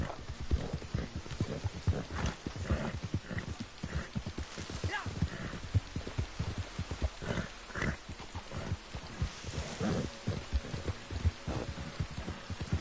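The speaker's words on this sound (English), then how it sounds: "I love the rain in this game." Steady rain falls across an open-world landscape in Red Dead Redemption 2 while a horse's hooves clip-clop in a quick, continuous rhythm close by, with no voices over it.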